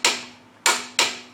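Wrench cranking down a front control arm bolt on an Audi B8, three sharp metallic clicks with a brief ringing decay, close and clear with a short pause between the first and second.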